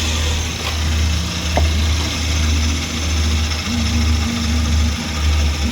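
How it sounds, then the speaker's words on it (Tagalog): A Suzuki DA64W turbo engine idles steadily up close, a loud low rumble with a faint ticking and whirring mechanical texture throughout. "tahimik naman yung makina."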